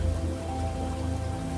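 Rain falls at the Cold Soufriere volcanic site near Portsmouth in northern Dominica, a steady, even patter on surfaces with no voices.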